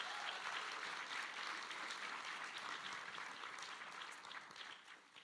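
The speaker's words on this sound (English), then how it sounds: "Let's give them a round of applause." A live audience gives a sustained round of applause at a Saskatoon Morning tenth-anniversary celebration, dense even clapping that holds steady and then tapers slightly near the end.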